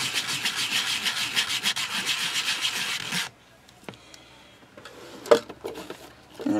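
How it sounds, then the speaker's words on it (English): Rapid rhythmic rasping of sanding the cut edges of polymer clay, close and loud for about three seconds, then stops; a few faint clicks and handling noises follow. "you're just kind of smoothing these cut edges a little bit"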